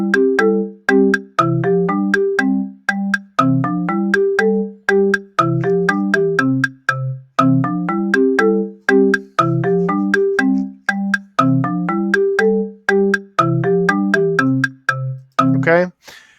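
Repetitive synthesized melody built in Chrome Music Lab Song Maker, a bright, bell-like looping phrase of short notes repeating in regular bars, loud and close with no voices.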